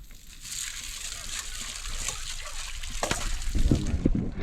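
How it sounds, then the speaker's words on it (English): Peas being washed in water for a Jamaican family Sunday meal: sloshing and splashing that swells toward the end, with voices faintly present underneath. "Get the peas washed off right and proper way"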